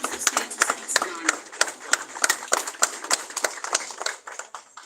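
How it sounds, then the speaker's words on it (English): A crowd at a Ghanaian presidential health-programme launch applauds as President John Dramani Mahama comes to the stage: a steady run of sharp, fairly loud hand claps from many people, uneven in rhythm and continuing throughout. "Give him the thunderous applause as he comes to stage to speak to Ghana."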